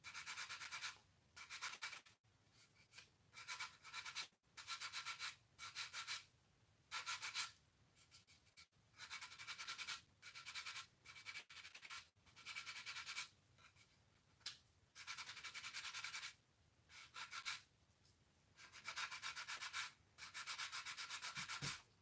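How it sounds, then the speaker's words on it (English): Repeated strokes of fine abrasive rubbing across a small plastic part from a 1/48 Eduard Tempest new-tool aircraft kit, in close, steady bursts separated by short pauses, with no talking. "now I need to sand a bit here"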